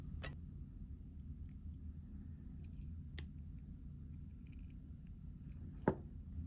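Jewelry wire is snipped while wire-wrapping earrings, with a few sharp isolated clicks and small handling ticks over a quiet, low background hum.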